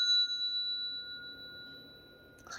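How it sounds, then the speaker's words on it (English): A small bell is struck once and rings out with a clear, pure tone that slowly decays over about two seconds, close and alone in an otherwise quiet room. "they want me to ring the bell"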